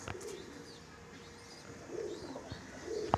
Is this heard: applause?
no